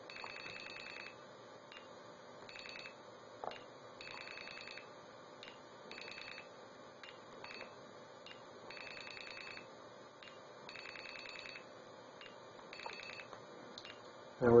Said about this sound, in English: now we'll dial the Project MF phone number